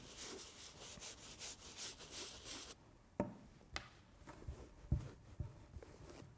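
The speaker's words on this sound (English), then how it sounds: "use the premium brush and the RTU foam. Just apply it directly onto the brush and go ahead and start scrubbing" Brush bristles scrub a Nike Adapt BB sneaker midsole lathered with foam cleaner, a close, steady rasping swish lasting a few seconds, then a quieter stretch of light taps and handling knocks.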